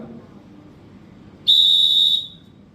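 A single sharp, high whistle blast, blown to stop traffic, held steady for nearly a second, loud and close, cutting in over quiet background noise.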